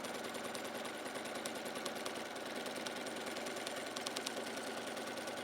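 A sewing machine stitches lines across a quilted square, a fast steady needle chatter with rhythmic clicking, close and moderately quiet, running without pause.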